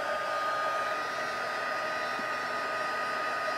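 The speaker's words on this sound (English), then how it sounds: "So the heat tool is what you're going to use to melt that embossing powder." A heat embossing tool blows a constant, loud hot-air hum on its high setting while melting embossing powder for card stamping, an unbroken hair-dryer-like drone with no voices.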